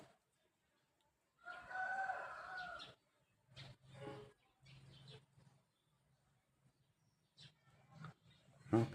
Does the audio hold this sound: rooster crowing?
yes